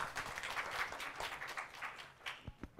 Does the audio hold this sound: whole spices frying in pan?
no